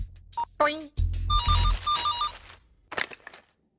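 A telephone rings in short repeated electronic trills, with people talking just before and after the ringing.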